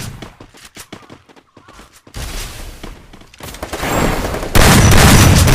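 Gunfire from a shooting video game, with bursts of rapid shots building in intensity toward a loud, dense volley at the end, with no talking over it.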